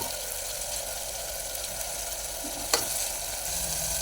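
Tomatoes fry in hot oil for a tamarind curry, giving a soft, steady sizzle close by, with a sharp clink of a spoon against the pan partway through and no talking.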